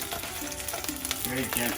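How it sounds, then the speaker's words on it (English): Steady sizzling of salmon frying in a pan, a constant crackle-free hiss with a few soft clinks and stirring sounds, close and moderately loud. "So it has that nice little sizzle to it"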